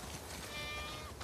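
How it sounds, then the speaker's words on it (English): Sheep bleating in The Last of Us Part II video game: a short, wavering bleat rises over a steady farmyard background, moderately faint and brief, with no talking. "We definitely have way too many sheep."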